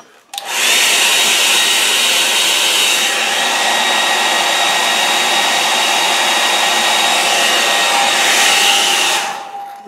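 A hair dryer blows steadily on wet watercolour paint, a loud, close, continuous whooshing whine that switches on, holds for about nine seconds with a slight shift in pitch, then winds down.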